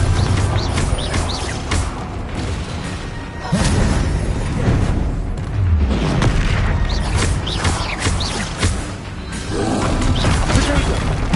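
Confringo spell explosions in the Hogwarts Legacy video game, repeated booming blasts and crashes in the middle of hectic combat, loud and close, with spell effects and clatter between hits.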